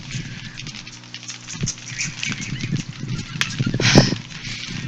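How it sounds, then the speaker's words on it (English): Heavier rain pattering steadily at an outdoor ballpark during a college baseball game, a continuous close patter with scattered louder taps and one sharper knock near the end. "heavier rain picking up here at the ballpark"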